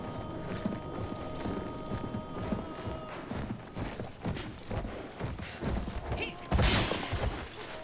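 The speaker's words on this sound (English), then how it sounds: "I heard a horse." A horse's hooves clip-clop in the video game Battlefield 1, a busy run of close, uneven hoofbeats amid battle clatter and mechanical noise, with a loud crash near the end.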